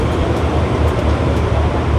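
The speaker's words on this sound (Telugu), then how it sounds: "పైన చూడండి కొత్త ట్రైన్ పోతా ఉంది" A loud, steady rumble of a train rolling past close by overhead in Kuala Lumpur, with dense low roar and rattling filling the whole short stretch.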